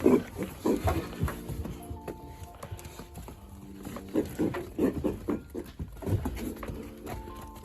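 Several pigs grunt and snuffle close by in bursts, with scuffling movement and a few higher squeals scattered throughout.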